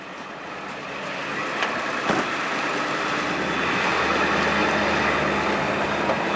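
Engine of a Ford F550 4X4 bucket truck with an Elliott ECA-411-A aerial unit revving up as the PTO engages, a steady loud diesel roar that rises gradually and holds, with no talk.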